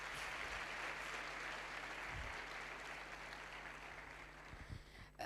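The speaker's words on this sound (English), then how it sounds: "Can we give a round of applause again?" An audience at a youth week event gives a round of applause, a steady wash of clapping that stays full for several seconds before slowly thinning out.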